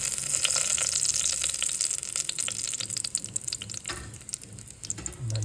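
Whole cinnamon, cloves and cardamom go into hot oil on an electric stove and sizzle with a bright, crackling hiss. The frying is close and steady, with a few soft clinks and a brief low knock near the end.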